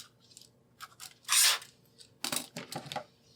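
Scissors snipping through fabric along a template line for a jelly roll tote bag, a few separate quiet cuts with a louder longer snip in the middle, no talking.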